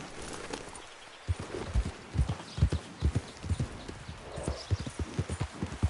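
Horse hooves clip-clopping at a brisk, steady walking rhythm in Red Dead Redemption 2, close and distinct, starting after a brief quieter moment with soft rustling ambience behind the footfalls.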